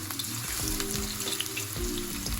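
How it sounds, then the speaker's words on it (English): Steady, close sizzling and crackling of chicken wings frying in hot grease in a frying pan, with a low hum running underneath. "So our grease is nice and hot. Let's get to frying."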